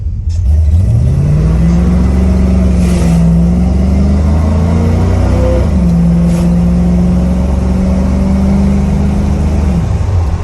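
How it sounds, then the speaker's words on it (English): An R10 engine fitted with a swapped carburetor revs loud and close, climbing at half throttle, dipping briefly, then holding a strong steady drone at full throttle before easing off. "I'm gonna try to give it like a half throttle and then full throttle."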